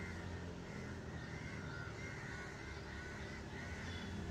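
Crows caw outdoors in Arambol, Goa, faint and at a distance, over a steady background hiss with no talking.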